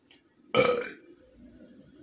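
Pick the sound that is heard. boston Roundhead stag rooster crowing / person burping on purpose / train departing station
person burping on purpose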